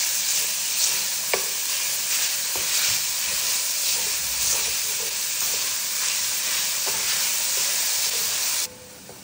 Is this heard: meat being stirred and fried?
yes